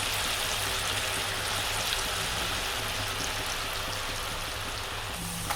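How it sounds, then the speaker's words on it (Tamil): Masala potato chips fry in hot oil, giving a dense, even hiss of bubbling that holds steady and loud throughout the clip. "கொஞ்சம் கொஞ்சமாக போட்டுட்டு அப்படியே ஃப்ரை பண்ணி எடுத்துக்கலாம் நம்ம"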